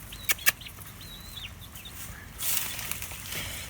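Backyard hens, with a mother hen, give a few short clucks and soft chirps near the start before steady outdoor background noise takes over, some of the birds recovering from fowl pox.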